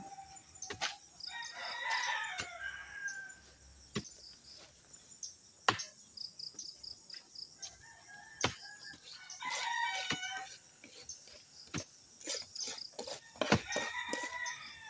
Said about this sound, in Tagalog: daming manok ni Uge.